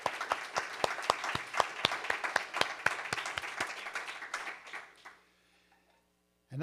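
A second round of applause for author Julia Glass at a faculty presentation, loud distinct claps in a fairly rhythmic crowd clapping that thins out and fades after about five seconds, followed by near silence.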